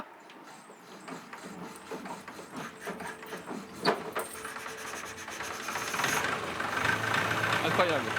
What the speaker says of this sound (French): Elle démarre bien, Eh, la manivelle.